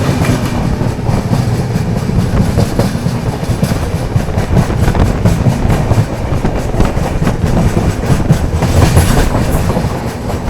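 A train runs through Harrawala railway station: loud, steady rumble and rhythmic clickety-clack of wheels over rail joints throughout, close by, without speech.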